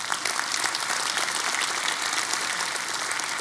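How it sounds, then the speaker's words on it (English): Sustained applause from an audience at an annual meeting evening event, honoring elected officials; dense, steady clapping fills the space from start to finish at even loudness with no talk over it. "if you all give them one last round of applause"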